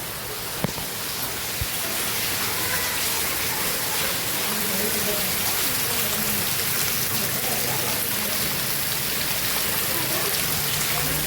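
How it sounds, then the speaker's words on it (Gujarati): Heavy rain pours steadily outside a village home, a dense, even hiss of drops on surfaces that holds at the same loudness throughout, with no voices over it. "તો મિત્રો બહાર વરસાદ ભયંકર ચાલુ થઈ ગયો"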